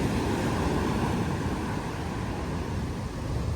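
Ocean waves break at T-Rex Beach on Nusa Penida, Bali, in a continuous loud wash of surf with wind noise over the microphone and no pauses.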